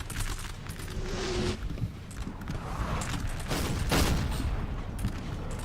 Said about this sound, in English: the canister taking out the whole back line there